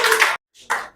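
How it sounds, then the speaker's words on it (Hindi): An audience claps in a short burst of dense applause that cuts off abruptly, followed by a brief silence and then a second, shorter burst. "ताली भी बजाइए।"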